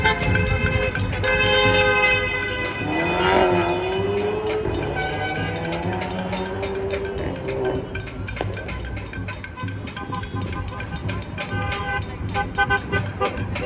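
Cars honk outside Leicester train station during a Friday night Palestine protest, with sustained and repeated horn blasts over street noise. One long wavering horn stands out early, and more honks follow.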